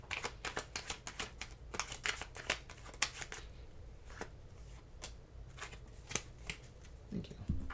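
Tarot cards are shuffled and drawn by hand in a rapid, irregular run of close, crisp riffling snaps and flicks with soft sliding between them. No talking is heard.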